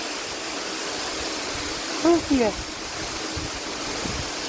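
Water gushes from a borewell pipe on a peanut farm, a steady rushing flow heard close up, with a brief voice speaking over it midway.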